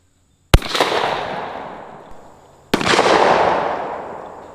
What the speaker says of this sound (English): So the Remington 870, let's get a pattern test, then try this out.